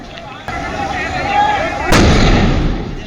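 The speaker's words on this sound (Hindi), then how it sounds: "आप देखिए धमाके की आवाजें भी बीच में सुनी गई" At a burning pharmaceutical factory in Ambernath, Thane, two sharp explosive bangs break out, the second heavier and followed by a loud, rumbling roar, over a steady background of fire and voices.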